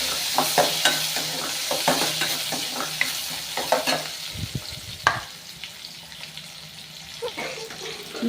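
Tomatoes and green chillies frying with curry leaves in a pan while being stirred: a steady sizzle with frequent scraping and clattering stir strokes, close and fairly loud.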